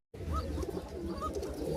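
A Rajshahi Giribaz pigeon coos softly close by, starting after a brief silence with a few low, throaty warbling coos over a faint rumble.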